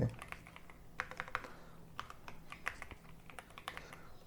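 Steady, quiet typing on a computer keyboard while text is entered in ArcGIS mapping software, with irregular clusters of close key clicks and no talking.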